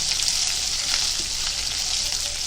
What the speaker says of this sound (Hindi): एक गैस पे छाछ बघार दे रहे